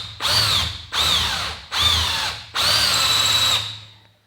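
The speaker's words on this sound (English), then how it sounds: "So now I'm drilling out the holes to size." A power drill whines through steel in four bursts, three short and one longer, drilling quarter-inch holes, each cutting off sharply before the next, close and loud.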